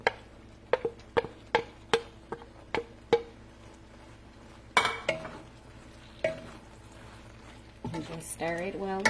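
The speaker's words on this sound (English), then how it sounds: "Then I'm going to add in that meat we made." Ground meat for a stuffed pepper skillet is stirred in a pan, with a run of sharp, evenly spaced spoon knocks against the skillet followed by softer scraping and a faint sizzle.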